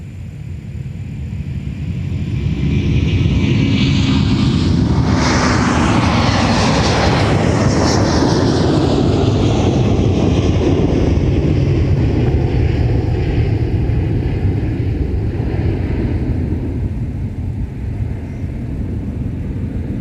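An airliner lands on runway 30 right at Minneapolis–St. Paul airport, its engine roar swelling as it passes nearby, then settling into a steady, loud rumble that carries on for the rest of the stretch.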